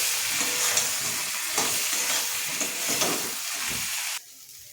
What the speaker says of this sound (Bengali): নুন, হলুদ, কাশ্মীরি লঙ্কার গুঁড়ো দিয়ে ভালো করে আবারও ভেজে নেব।